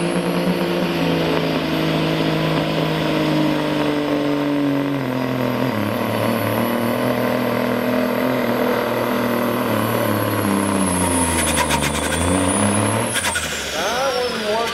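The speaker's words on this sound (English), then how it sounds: "this 98 Peterbilt called Last Minute sporting a big Cummins motor" A 1998 Peterbilt truck with a big Cummins engine makes a tractor pull, a loud sustained diesel roar that bogs down in pitch near the end before a hiss of air release as the run stops.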